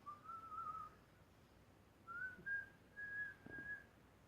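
Faint, thin whistling in two breathy attempts, a wavering note first, then a short pause and a slightly higher, steadier tone.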